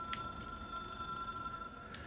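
Faint electronic telephone ring from the hotline power object in the video game Control: a short tone at the start, then a long steady beep that holds and fades, with a low background hum and no voices.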